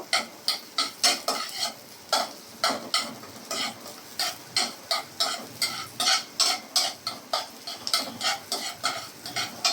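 Onions fry toward light brown while a spatula scrapes the pan in a fast, regular rhythm, each stroke a bright clack over a low sizzle, close up with no talking.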